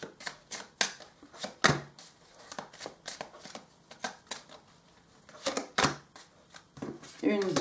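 Oracle cards shuffled and handled in quick irregular snaps and flicks, close by, with someone speaking intermittently over them.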